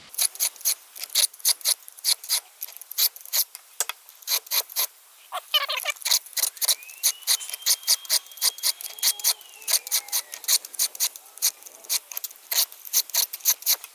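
Steady rhythmic rasping strokes of a file on a chainsaw's raker during sharpening, close and crisp, with a brief pause and a faint high whine partway through.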